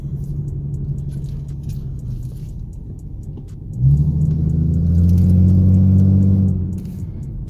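A 2014 Ford Mustang engine burbles at idle through a Cyclone eBay X-pipe exhaust, then swells into a louder, deeper rumble for a few seconds before settling back to a steady idle, close and alone.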